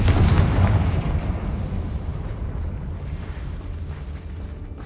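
A Confringo fire spell blasts in Hogwarts Legacy: a loud, deep explosive boom at the start that rumbles and slowly decays into a long roaring tail.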